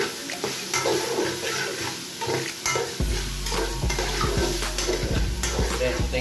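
Chicken liver stir-fried with beef mince in a pan, a steady close sizzle with scraping stirs that grows louder and denser midway, spatula clinks scattered throughout.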